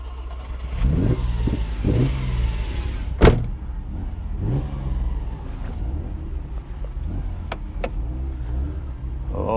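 A Ferrari Dino 246GT on the move, its engine rising and falling through a few revving pulls with gear changes, heard from inside the car over steady road rumble, plus a couple of sharp clicks.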